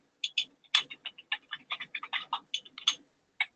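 Quick bursts of keystrokes on a computer keyboard, crisp clicks in uneven rhythm with short pauses, close and alone.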